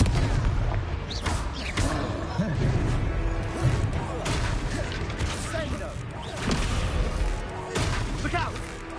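Confringo blasting spells in Hogwarts Legacy set off a run of heavy booms, thuds and crashes over a rumbling battle din, while voices call out between the blasts.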